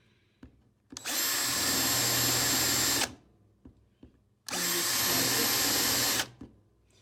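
A power drill boring into wood while building a Battletech base from junk, running loud and steady in two separate bursts of about two seconds each, with brief clicks and handling knocks between them.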